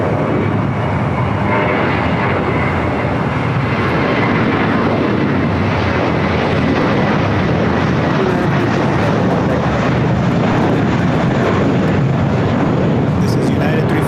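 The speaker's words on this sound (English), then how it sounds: "This is United 357 going to Seattle on Airbus A320" A United Airbus A320 airliner at LAX makes a loud, sustained roar of jet engines that swells and rumbles, and voices talk over it throughout.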